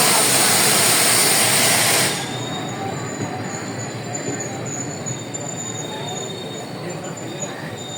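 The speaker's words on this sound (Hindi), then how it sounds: "ले जी सर सैयद एक्सप्रेस आ गई" Sir Syed Express of Pakistan Railways pulling into a station in the rain, a loud broadband rumble with bright high squeal for two seconds, then easing into a steady softer rolling noise with faint high whine.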